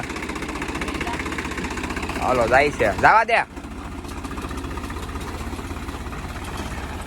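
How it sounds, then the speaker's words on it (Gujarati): A farm tractor engine runs steadily throughout with a low continuous rumble, while someone talks over it near the middle. "આ ટ્રેક્ટર છે"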